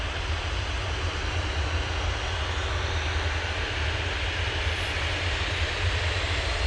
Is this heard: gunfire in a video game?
no